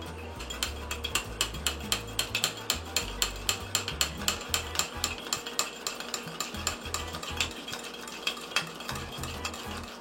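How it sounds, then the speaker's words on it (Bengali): A spoon beating coffee and sugar in a cup makes rapid, even clinks and scrapes for several seconds, close up and without talk. "দেখেন চামচ দিয়ে বিট করতে করতে কালারটা কত হালকা হয়ে গেছে"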